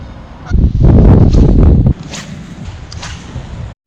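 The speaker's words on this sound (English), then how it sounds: "Geese in the background, ducks all over." Geese honk in a dense chorus by a lake in early spring rain, loud at first and then easing to a steady background clamor, with no speech.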